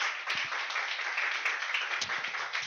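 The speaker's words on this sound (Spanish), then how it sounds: "Den un buen aplauso a ellos," A church congregation at a Spanish-language service claps together in steady, dense applause that fills the whole stretch, with faint voices murmuring underneath.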